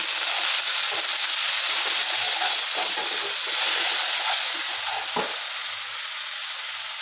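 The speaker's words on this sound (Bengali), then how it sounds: "দিয়ে মশলাটাকে আমি কষিয়ে নেবো।" Ground spices (cumin, coriander, Kashmiri chili and turmeric) are sautéed in a pan with a splash of water, producing a steady hissing sizzle throughout and a single sharp scrape of stirring midway.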